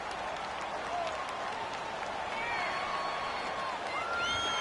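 The home crowd at a Chargers vs Giants NFL football game, a steady stadium roar with applause swelling underneath, while a commentator talks over the top.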